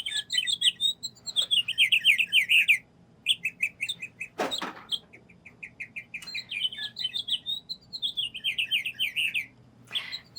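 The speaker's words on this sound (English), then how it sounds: "And the little lovebirds make noises." Rapid high chirps and tweets from toy lovebirds in repeated bursts, a short break, then more chirping trills, with a sharp knock in the middle.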